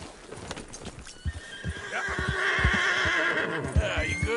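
Horse from the game Red Dead Redemption 2 gives a loud, drawn-out neigh and whinny over a steady clip-clop of hooves on the ground, with a faint voice briefly in the background.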